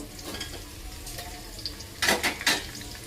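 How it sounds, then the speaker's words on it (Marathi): Tomatoes tip into onions already frying in a pan for soybean khichdi, giving a few loud close wet sizzling bursts and stirring scrapes near the end after a quieter background of frying. "इथे कांदे परतून झालेत, आता टाकूया टोमॅटो"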